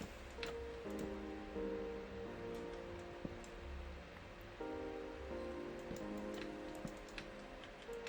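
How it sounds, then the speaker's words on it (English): Rain in the Minecraft video game falls as a steady, moderate patter with faint ticking drops, layered over low tonal hums and kept at an even level. "Bo, did you order more rain again"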